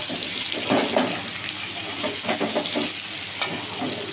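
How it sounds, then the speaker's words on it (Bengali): Food cooking in a pan hisses with a constant frying sizzle, while stirring adds scattered scrapes and knocks close by. "এই আমি এখন রান্না করছি"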